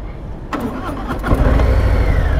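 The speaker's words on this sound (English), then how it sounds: "Let's see if I can start this in first gear because I can't get it in neutral." A Harley-Davidson Heritage motorcycle engine cranks and fires up while left in first gear, catching after about half a second and settling into a loud, steady rumbling idle up close.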